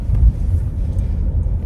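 A car cabin carries a low, steady engine and road rumble while driving, moderately loud and alone with no talking.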